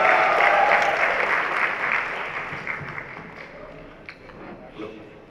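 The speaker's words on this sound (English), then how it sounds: "Big round of applause, everyone." Steady audience applause at a youth fashion show, loud at first and gradually thinning out, with a few scattered voices underneath.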